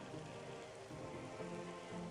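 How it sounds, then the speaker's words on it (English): Rain falling on a surface, a soft steady patter running throughout, faint and even with no talk over it. "It's raining."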